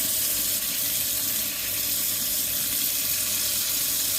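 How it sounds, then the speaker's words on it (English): Cold water runs steadily from a household tap during a gas engineer's job, a continuous close hiss of flowing water with no talk over it. "Now we've got just pure cold water coming out of there."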